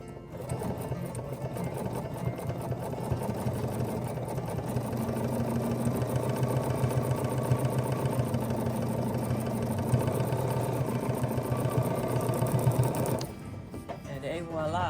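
Bernina sewing machine stitching denim-style fabric at a steady, fast rhythmic pace, a continuous mechanical whir and needle chatter that cuts off near the end.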